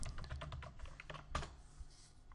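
Quiet, rapid keystrokes on a computer keyboard while logging back into a database website, a quick run of distinct taps with a short pause, close and alone.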